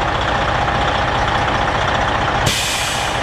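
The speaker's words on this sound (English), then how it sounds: "Brand new truck." Brand new truck's engine running steadily up close, a loud continuous rumble with a sudden shift in tone near the end, no talking.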